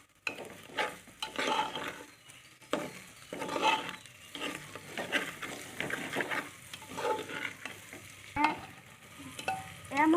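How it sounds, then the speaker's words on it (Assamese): Soaked sticky rice fries with sugar in a pan, giving a steady sizzle broken by repeated scraping and stirring strokes of a spatula against the pan, close and fairly loud. "চেনিখিনি দি অলপ সময় ভাজিব লাগিব।"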